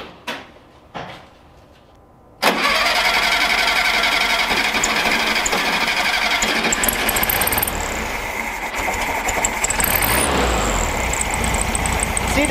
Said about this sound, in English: Let's go ahead and start the engine again and see where we are.